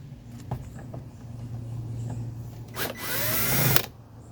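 A power drill backs a screw out of a door panel on a 1984 Mercedes 300SD; quiet handling noises give way to a loud whirring drill burst of about a second, close up.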